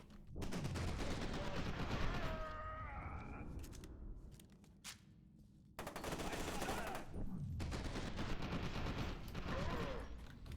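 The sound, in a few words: gunfire while driving in video game F.E.A.R. 2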